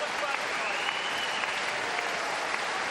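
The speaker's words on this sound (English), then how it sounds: "Generous applause around the D-side leisure centre here." Generous crowd applause fills a leisure centre after the final round of a professional boxing bout, a steady, dense wash of clapping that holds evenly throughout.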